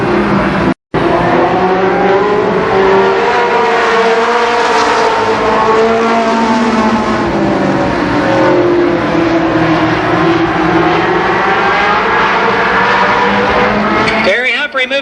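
Late model stock cars race past at Columbus Motor Speedway, a loud, continuous roar of engines that swells and shifts in pitch as the pack passes close by, with a brief dropout near the start.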